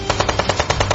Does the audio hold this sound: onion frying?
no